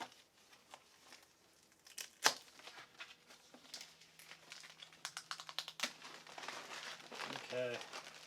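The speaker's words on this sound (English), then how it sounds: "We'll get some of this tape off and get down to the actual projector." Packing tape is peeled and torn off the box of an Epson Home Cinema 3200 4K projector, giving quiet, close crinkling, rips and cardboard rustles in scattered bursts, with a faint voice near the end.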